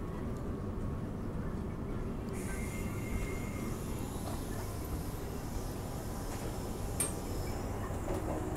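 Steady rumble and rattle of a Transperth B-series electric train running on rails from Perth to Thornlie, with a continuous roar of wheels and faint squeals and clicks throughout.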